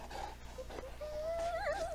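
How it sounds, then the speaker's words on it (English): A dog in Red Dead Redemption 2 whimpers and whines while being petted, soft rising and falling high whines over a low steady background hum. "Oh, look at the happy doggo though."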